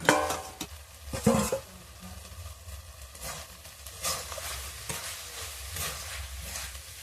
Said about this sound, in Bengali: এইভাবে নেড়ে নেড়ে আমি পুরটাকে শুকনো করে নেব